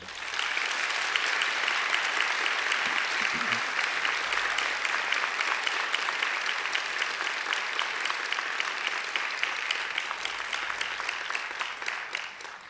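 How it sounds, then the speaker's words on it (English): Sustained applause from the audience at a university graduation ceremony, honouring the academic staff representatives; steady broadband clapping holds for the full length, fading slightly at the very end. "I'm sure you'd like to give them a great round of applause too"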